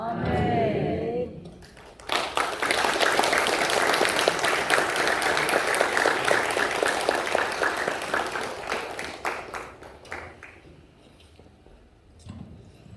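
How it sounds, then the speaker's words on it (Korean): A congregation applauds at a worship service held in a funeral hall in Jeonju, with dense sustained clapping for about eight seconds that gradually thins and fades out. "우리 다시 한번 박수하겠습니다"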